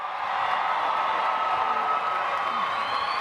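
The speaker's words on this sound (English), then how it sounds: "Y'all need to be on your feet, cheering for our graduates." High school graduation ceremony crowd at Stony Point H.S. cheering and whooping for graduates, a dense sustained roar of many voices filling a large space.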